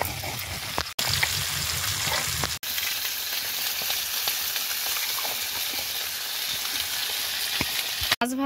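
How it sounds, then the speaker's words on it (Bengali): Garlic, onion and green chilli sizzle in oil in a pan used for frying fish, a steady close hiss with a few abrupt cuts and faint stirring. "মাছ ভাজার কড়াইতে একটু দিয়ে দেবো রসুন কুচি আর পেঁয়াজ কুচি, সঙ্গে কাঁচা লঙ্কা"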